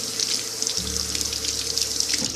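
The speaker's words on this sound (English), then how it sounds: "And I'll wash them real fast." Tap water runs steadily into a kitchen sink while fresh garden potatoes are rinsed under it, a continuous close splashing hiss with small shifts as the potatoes move in the stream.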